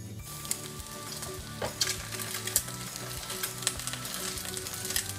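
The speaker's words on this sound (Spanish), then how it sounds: "No olvidemos de vez en cuando revolver nuestro tomatillo" Tomatillos sizzling and frying in a pan, stirred now and then with a utensil, giving a steady close crackle with a few scraping clicks and light knocks.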